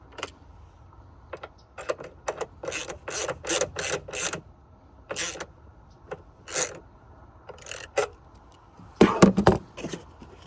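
A ratchet clicks in short bursts as it cranks down the battery hold-down on a Honda Passport, sharp close ratcheting rattles separated by pauses, with a few quick rapid strokes near the end.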